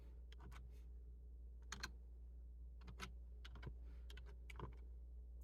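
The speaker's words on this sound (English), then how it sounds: "I'm going to type in crochet in my search bar" Soft, close keystrokes tap out a short search term on a computer keyboard in small bursts of clicks with brief pauses between, over a quiet, steady background hum.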